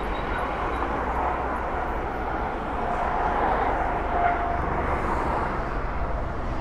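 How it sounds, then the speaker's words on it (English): Steady broadband rumble of helicopters flying around near a military base in Nanjing, a continuous even drone with no clear beat, heard from outdoors without speech. "helicopters flying around."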